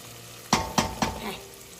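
Onions frying in a pan for a Bengali fish-head rice dish, softening with a steady low sizzle, broken by three quick, sharp stirring scrapes about a quarter second apart, then a quieter crackle.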